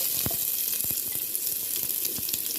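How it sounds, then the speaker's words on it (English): Onion hitting hot oil in a cooking pot, a steady close sizzle with small crackles and pops throughout. "So now I'm gonna add some onion,"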